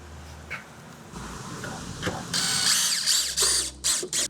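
Screws driven down to fasten the guard on a Bosch chop saw, with brief ratcheting clicks and handling knocks, then a loud, close whirring burst from a power driver in several short pulses.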